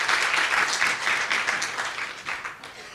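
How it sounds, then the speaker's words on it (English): Audience at a higher education quality forum applauding a program director, with dense continuous clapping from a room full of people that fades slightly toward the end. "I guess we should clap for her for running a program up to this point"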